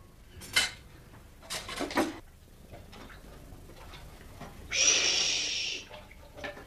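Dishes and cutlery clatter in a household kitchen, with a few sharp clinks early on and a louder, longer rattle of crockery near the end, against a quiet room with no talk.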